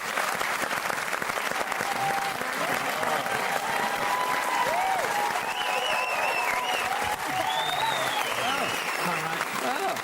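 A studio audience at a Christmas special of a TV music quiz applauds steadily and loudly for the full stretch, with whoops and cheers rising above the clapping.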